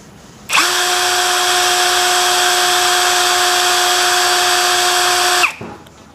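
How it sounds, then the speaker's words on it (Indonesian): Nagawa cordless brushless impact drill spins up at low speed with a steady, loud, high whine that holds evenly for about five seconds and then cuts off, with no talk. "Sekarang kita akan langsung uji RPM dari bor Nagawa ini."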